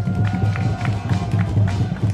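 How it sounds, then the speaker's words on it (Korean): A crowd at an outdoor patriotic rally applauds as a singer is welcomed, a steady wash of crowd noise punctuated by regular, evenly spaced clap bursts that continue unbroken at a fairly loud, even level. "큰 박수로 맞아주시기 바랍니다."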